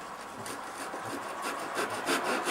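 A hand saw cutting wood clamped in a vise, starting a small V notch: steady rasping back-and-forth strokes, close and even, with no talking.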